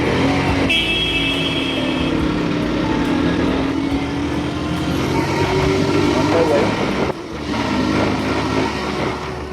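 A train rumbles past a motorcyclist on a Friday night road ride, its drawn-out tone rising and gliding under steady engine and traffic noise, loud and close throughout.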